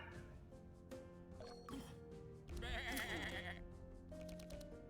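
Sheep bleating in a game, a wavering bleat rising over a steady bed of music and effects, close and fairly loud.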